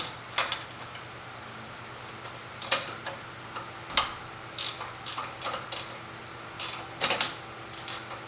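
Wrench working on a nut during a Subaru BRZ engine install, a scattered series of sharp metallic clicks and ratchet ticks at irregular intervals, close by over a faint hum, with no talking.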